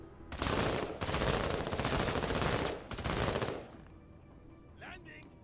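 Sustained bursts of rapid automatic gunfire blaze out in a shooter game, loud and close, broken by one short pause, then cut off to quieter room tone with a faint tonal blip at the end.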